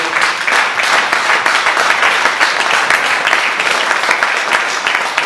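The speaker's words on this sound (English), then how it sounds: "Let's once again have a huge round of applause for our authors here." A book event audience gives the authors loud, sustained applause, a dense close roar of many clapping hands that continues without a break.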